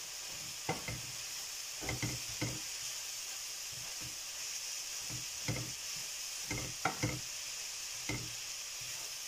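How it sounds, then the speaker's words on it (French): Vegetable samosa filling is stirred in a frying pan, with a steady sizzle under a series of irregular scraping strokes spread across the clip, close and fairly quiet. "Je vais continuer à bien mélanger."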